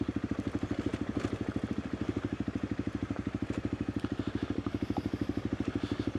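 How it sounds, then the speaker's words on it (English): A motorcycle exhaust pulses steadily as the bike climbs a road out of a valley, a loud, continuous rhythmic engine burble close to the rider with no talking. "Okay, climbing. Exhaust noises now."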